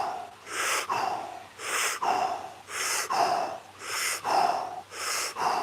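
Fast rhythmic breaths from a breathing exercise, about five sharp forceful inhale-exhale cycles roughly one per second, close to the microphone and with no talking.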